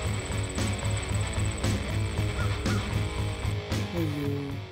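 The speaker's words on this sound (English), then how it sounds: "we saw all these baby turkeys." Baby turkeys call by a roadside, their faint peeping cries coming through steady outdoor background noise, clearest near the end.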